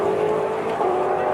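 A V8 Supercar race car driven by Lee Holdsworth through turn 2 at Phillip Island, a sustained loud engine drone with a tonal whine, heard from trackside, with faint commentary underneath.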